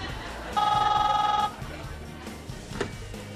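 A mobile phone rings once with a steady electronic tone, loud and close, then stops, leaving faint background noise and a brief click.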